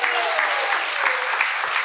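Audience applause after a storyteller's turn at a live storytelling event, dense and steady throughout, a full room clapping at close range with no talk over it.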